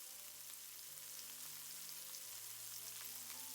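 Beef pieces sear in hot oil in a stir-fry pan for Mongolian beef, giving off a steady, dense sizzle that holds at an even level throughout, with no talking.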